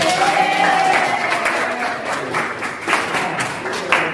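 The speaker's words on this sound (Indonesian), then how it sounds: "Boleh beri tepuk tangan." Students in an economics classroom clap together in a brief, somewhat thin round of applause with scattered hand claps and a faint steady tone underneath.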